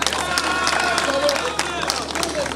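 Crowd applause at a university inauguration attended by a head of state, continuous dense clapping mixed with some murmuring throughout.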